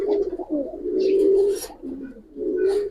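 Pigeons for sale, including pangkhi, army, lalpatti, silver and khaki types, coo in low, throaty, rolling calls close by, several overlapping coos rising and falling with brief pauses and no clear talking.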